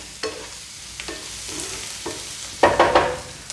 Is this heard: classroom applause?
no